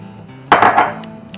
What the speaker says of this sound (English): just take this bowl and flip it right into your baking vessel